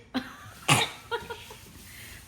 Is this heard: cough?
yes